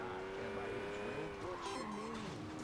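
A car races in the Saints Row 2 video game, its engine whining steadily with shifting pitch and a hint of tire squeal, fairly quiet throughout.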